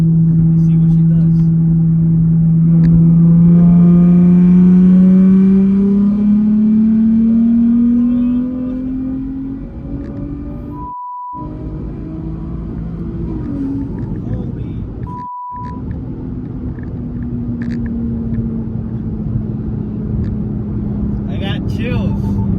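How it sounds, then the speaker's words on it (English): A Nissan Z fitted with upgraded turbos pulls hard in fifth gear on the street, its loud engine drone climbing steadily in pitch for several seconds before easing off, then holding a lower, steady rumble. "alright, we're gonna do a 5th gear pull"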